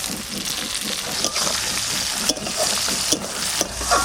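Capsicum frying in a hot pan with cumin and coriander, a steady close sizzle with occasional stirring scrapes, no voices.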